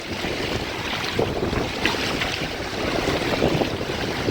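Strong wind gusts across the Mataura or Clutha River in New Zealand, buffeting the microphone with loud, rough, continuous rumbling and water wash, steady throughout with occasional sharper gusts.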